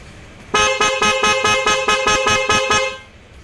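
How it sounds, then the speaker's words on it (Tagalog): A Honda Click 125i motorcycle horn honks in a rapid series of about ten short, loud beeps with a steady rhythm, then stops abruptly. "Busina mo nga"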